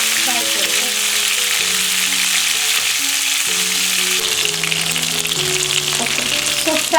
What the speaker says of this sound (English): So fry like this until little brownish